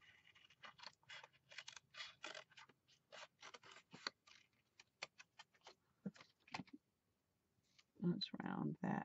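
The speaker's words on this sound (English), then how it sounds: "Let's cut them out and see." Scissors snip words out of paper in quick, close, dry clicks and cuts, irregular and quiet, with a short pause before a few louder rustling handling sounds.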